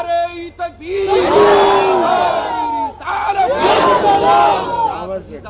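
A large crowd at a religious gathering, a sermon by a mufti, roars back in unison to a Nara-e-Takbeer chant, two loud surging waves of massed voices swelling and fading close by.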